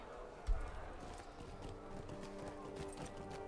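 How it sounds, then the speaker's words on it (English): Hooves clip-clop in a quick galloping rhythm, fairly faint, with a thud at the start and soft background sounds throughout. "Come on, horse."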